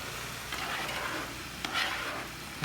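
Chopped peppers tipped into a pot of stuffed pepper soup, giving a soft rustling, stirring clatter with a couple of brief louder scrapes near the middle, steady and close with no talking.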